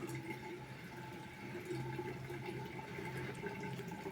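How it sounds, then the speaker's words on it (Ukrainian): Homemade grape wine streams from a manual press in a garage, a continuous soft trickling and gurgling of liquid, steady and quiet, with a low hum underneath. "І через наш апарат тече вино."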